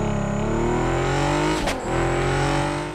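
A Subaru with a swapped-in 2JZ engine in the Super Street racing game, revving with a steady, loud engine drone that holds through a brief dip before rising again, with no talking.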